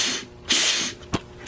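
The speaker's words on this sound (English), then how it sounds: "You mostly hear the hiss from here." Compressed air hisses from a 727 automatic transmission under assembly, a broad steady hiss swelling loudly for about half a second, then a short sharp burst, close and without talk.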